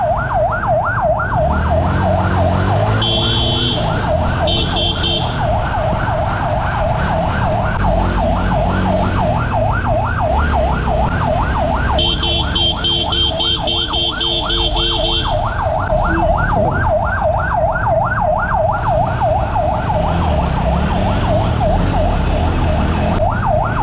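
A loud wailing ambulance siren cycles rapidly and continuously, close by, over rumbling traffic and engine noise, with brief horn-like tones at moments, as the ambulance tries to get through traffic.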